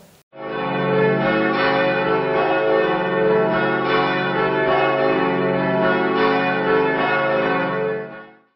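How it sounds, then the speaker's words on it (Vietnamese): Church bells of St. Peter's Basilica ringing out over the square in Rome, a rich sustained peal with overlapping tones that holds steady and loud for several seconds, no voices. "lúc 5 giờ 5 phút các quả chuông tại đền thờ Thánh Phêrô đã vang lên trên quảng trường"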